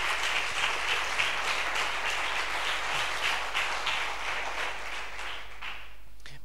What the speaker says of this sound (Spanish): quiero que le deis un fuerte aplauso a los tres.